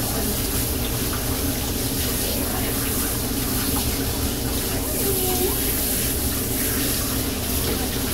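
Water runs steadily while a Papillon puppy is rinsed in a bath, a continuous close hiss lasting the whole stretch, with a voice now and then over it.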